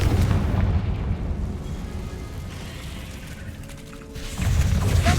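Bombarda and Confringo blast spells in the Hogwarts Legacy video game give a deep rumbling boom that fades away slowly, then a fresh loud burst of explosion near the end, with no voices.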